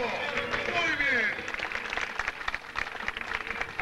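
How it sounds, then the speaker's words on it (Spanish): An audience claps for a contestant at a swimming event, with a burst of applause mixing with an announcer's loud voice at the start before scattered clapping carries on alone. "un fuerte aplauso para Ernesto"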